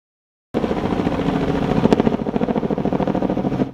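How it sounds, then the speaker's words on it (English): Police helicopters buzzing overhead, a steady rhythmic rotor thump that starts abruptly and holds at a moderate, fairly close level with no talk. "Police choppers buzzing overhead"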